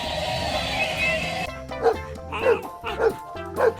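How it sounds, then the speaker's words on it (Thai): A dog barks in a quick run of four short, yelping barks, loud and close, following a brief stretch of a different high, wavering tone. "dog"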